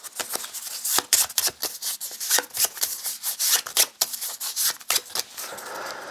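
Game cards for a Runescape Kingdoms board game are shuffled up close, giving a dense run of crisp riffling and snapping bursts with uneven rhythm and no talking.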